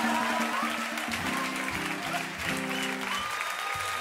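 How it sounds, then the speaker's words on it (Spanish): An audience claps loudly and steadily at a live performance, a dense, continuous wash of applause that fills the whole stretch while musical tones sound underneath. "Queremos que recibáis con un fuerte aplauso a Juan Abarca"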